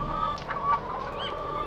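Chickens cluck briefly in the video game Farming Simulator 2015, a few quick, moderately loud clucks in a short burst with no talk.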